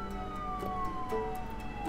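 A fire truck siren wails in a SimCity game while the truck sits stuck in traffic, its steady falling tone sounding at moderate distance over a low city hum.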